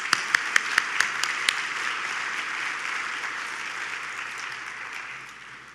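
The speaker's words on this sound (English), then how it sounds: "If you could give them all another round of applause" An awards dinner audience at an annual food and beverage industries event applauds. A few distinct sharp claps come first, then a dense, steady wash of clapping from the whole room, gradually fading.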